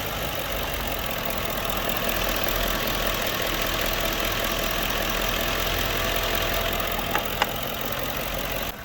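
A Ford Panther platform car sits idling, its engine giving a steady, even hum close by, with two brief clicks near the end.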